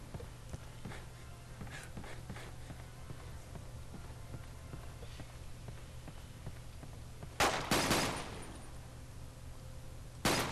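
Gunfire in the video game 007 Quantum of Solace: a low, steady hum and faint scattered clicks give way to a loud, rapid burst of shots lasting under a second, then a second short volley right at the end, with no voices.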